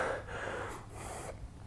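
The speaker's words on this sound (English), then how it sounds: "I'm breathing heavy" Heavy, ragged breaths after a kettlebell workout set, a few loud close gasping inhales and exhales with airy rasping, no speech.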